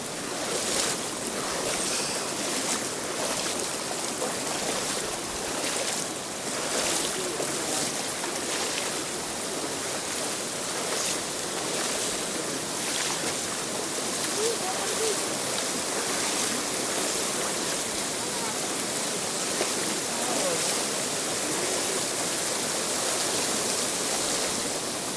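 A river flowing along the Bhutan–India border gives off a steady, broad rush of water that holds constant for the whole stretch, with no voices.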